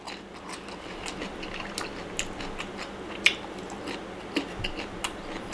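Close-up eating of a pounded stink bean salad with blanched shrimp: soft, wet chewing with occasional sharper crunchy bites, fairly quiet and irregular, with no talking.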